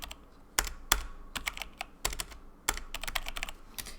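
Typing on a computer keyboard, close and clear, irregular clusters of key taps with a few louder strikes, no talking.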